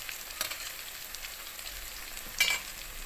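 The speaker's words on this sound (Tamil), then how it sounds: "இதை அப்படியே திருப்பி போட்டு இன்னொரு பக்கம் ஃப்ரை பண்ணி எடுக்க வேண்டியது." Raw banana slices frying in oil in a pan, a soft steady sizzle with a brief louder crackle near the end, heard alone without talking.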